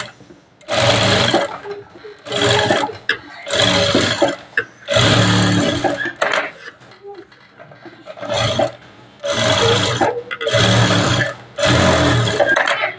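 An interlock sewing machine runs in repeated loud bursts while stitching blouse fabric, with short pauses between runs.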